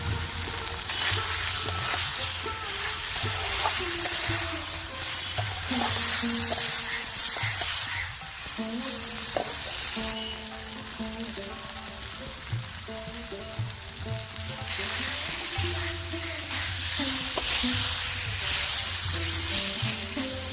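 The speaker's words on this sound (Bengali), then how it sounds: "সবজিগুলোকে কষানোর সময় আমি আরেকটু তেল দিয়ে দিচ্ছি" Vegetables sizzle steadily in hot oil while being sautéed with drumstick stalks and drumstick flower paste, a continuous loud frying hiss with occasional stirring scrapes throughout.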